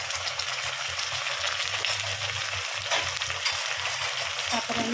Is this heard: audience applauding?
no